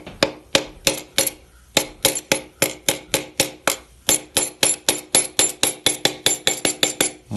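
A wooden dowel is hammered against the underside of a piston to knock it out of a Ford 302 engine's cylinder, making about twenty-five sharp, loud, evenly spaced blows close by with one brief pause.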